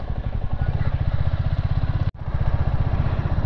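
A motorcycle engine runs during a ride from Badlapur to Lonavala, a loud steady thrumming pulse with a brief dropout midway before it resumes.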